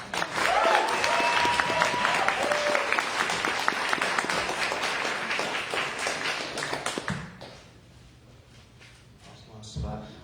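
Warm applause for a poet at an open mic rises from a small audience and stays full for about seven seconds before dying away. Quiet room noise and a few stray taps follow.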